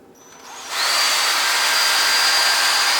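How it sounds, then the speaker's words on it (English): A power drill fitted with a 7/8 inch wood spade bit spins up after a brief pause and settles into a steady, loud, even whir at low speed, close by and alone. "I'm using a 7/8 inch, like a wood spade bit, nothing fancy."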